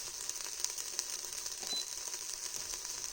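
A soft, steady sizzling from chicken noodle soup ingredients in an Instant Pot pressure cooker on saute, faint and close, with occasional small ticks and crackles.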